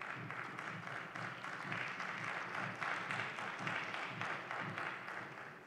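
Parliament members applauding after a speech about storm damage, a steady, moderately distant patter of many hands clapping that continues for several seconds without speech.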